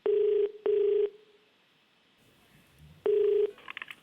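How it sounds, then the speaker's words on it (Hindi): A telephone rings for an outgoing call on a television quiz show set, with two short buzzy rings in quick succession, a pause, then a third ring, loud and clear with no talk over it. "कंप्यूटर महाशय, मैं आग्रह करूंगा आपसे कि अगर आप आमिर खान को फोन लगा सकें"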